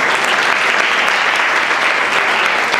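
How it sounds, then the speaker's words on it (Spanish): A crowd at a Pint of Science talk gives collaborators a big round of applause: dense, steady, loud clapping that fills the whole stretch, close and unbroken. "pide un aplauso muy grande para ellos"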